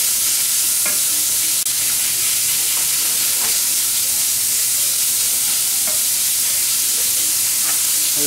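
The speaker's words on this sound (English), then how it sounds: "we're going to grill up about a half a pound of hamburger meat with" About half a pound of hamburger meat sizzles loudly on a grill, a dense, continuous frying hiss with occasional stirring scrapes and pops, close up and without talk.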